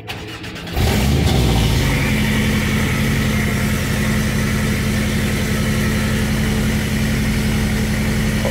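A Porsche Cayman's engine cranks and catches, then settles into a loud, steady high idle that holds evenly for several seconds close by, with no voices.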